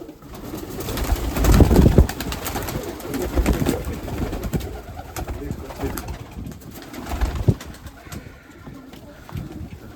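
Mykolaiv breed pigeons coo repeatedly at close range in a pigeon loft with soft rustling and faint background voices, a steady murmuring of calls throughout.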